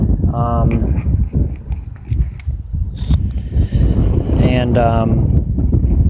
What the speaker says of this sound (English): God, this wind.